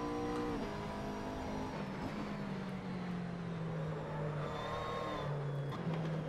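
McLaren MP4-12C engine in the Assetto Corsa racing sim at Spa, a steady droning engine note that shifts pitch gradually, with a gear change early on, loud and continuous with no talking.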